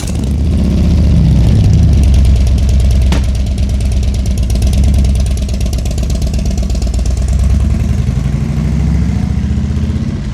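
A Harley-Davidson motorcycle engine runs loudly and steadily close by, a deep throbbing idle with slight rises in revs throughout.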